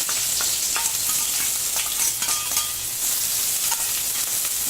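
Garlic and onion frying in oil, a loud continuous sizzle with occasional stirring scrapes throughout, no voices.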